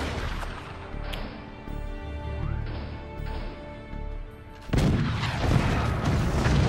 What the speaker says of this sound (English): We are under attack by two cannons and a laser from the beginning.